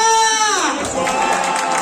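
A large crowd cheers and applauds at a comedy gala in Cameroon, with a sustained tonal shout or whistle at the start giving way to loud, dense clapping and crowd noise.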